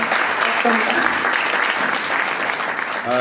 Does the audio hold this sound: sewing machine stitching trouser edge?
no